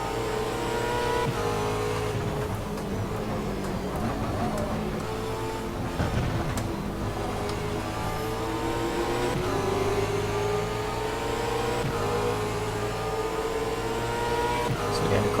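V8 Supercars engines from the Automobilista mod at Barbagallo drone and rev through gear changes, one car close and loud with engine pitch sweeping steadily up and down, while someone talks over it.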